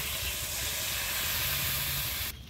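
Steady hiss and sizzle as hot water goes into a pan of fried cauliflower and potato curry, loud and continuous before dropping off abruptly at the end.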